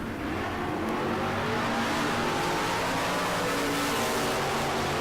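Drag race at the Tucson Southwest Showdown pitting a Camaro against the Jelly Bean Chevette, engines roaring steadily loud and close with a continuous high-revving wail and no voices.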